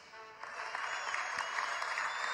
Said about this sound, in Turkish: Salon alkışlarla patladı.